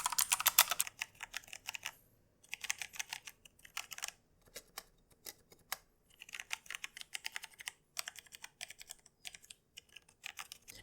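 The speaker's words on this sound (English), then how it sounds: "I'm going to compare this to my Red Dragon clicky keyboard" Fast, crisp typing on a Red Dragon clicky mechanical keyboard up close, in uneven bursts with short pauses between them.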